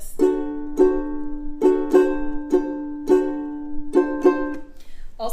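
Ukulele strummed with the thumb and no chord-hand muting, a series of bright ringing chords in a loose rhythm, each strum sustaining into the next, played alone and up close.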